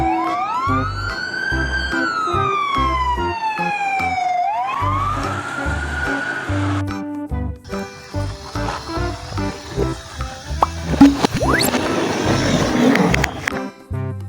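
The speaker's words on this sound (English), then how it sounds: "Ambulance." An ambulance siren wails in rising and falling sweeps, loud and close, then gives way to other vehicle and siren sounds layered with rhythmic background music.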